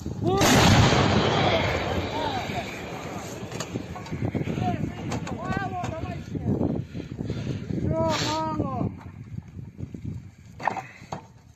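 An M777 howitzer fires with a heavy, booming blast in the field during the war in Ukraine, followed by shouting soldiers and clanking as the crew reloads the gun.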